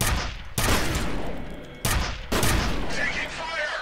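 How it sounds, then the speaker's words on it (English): Gunfire rings out in the shooter game F.E.A.R., loud bursts of shots with two sharp onsets followed by sustained rattling fire and echoing debris, close and dense. "Taking fire."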